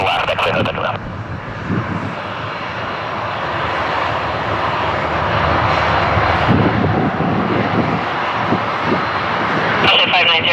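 An airliner takes off from runway 06 left at Toronto Pearson, its engines roaring steadily and fairly loud throughout the run, with a brief radio-like burst at the start and end.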